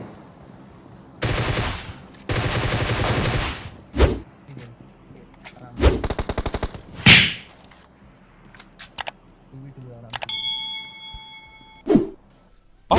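Groza assault rifle gunfire in a mobile battle-royale game: several loud, close full-auto bursts separated by short pauses and single shots, with a vehicle rumbling underneath and a bright synthetic interface tone near the end.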